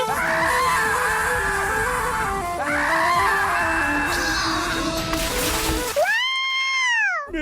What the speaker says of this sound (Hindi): नाव गिरने वाली है।